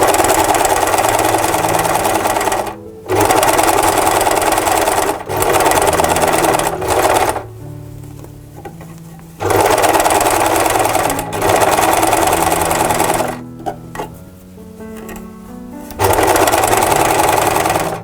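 A sewing machine stitches fabric for a jar cover, whirring in several loud bursts of a few seconds each. Quieter pauses come between the runs, and its motor pitch shifts slightly from run to run.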